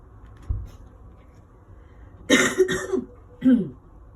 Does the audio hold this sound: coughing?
yes